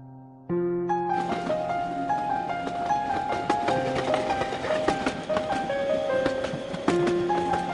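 A train pulls away from a station, a loud sustained rumble with rolling wheel clatter and drawn-out tonal squeals or horn-like notes layered over it, starting abruptly after a brief quiet moment.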